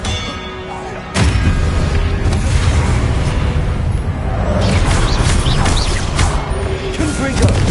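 Confringo explosive spell blasts in Hogwarts Legacy, a sudden loud burst followed by sustained rumbling booms and crackling impacts of continuous spell combat, dense and close.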